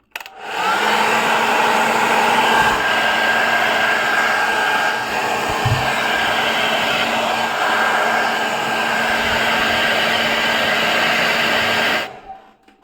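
A hair dryer blows steadily and loudly for about twelve seconds, a continuous whooshing hum with a faint tonal whine, then cuts off abruptly.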